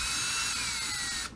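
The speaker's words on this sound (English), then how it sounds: "you need to switch out of the drill if you choose to use one and go back to hand tightening" A power drill runs steadily, tightening the screws on an Axial RR10 Mud Slinger 2.2 XL bead lock rim. Its loud, continuous whine holds for more than a second and then cuts off abruptly.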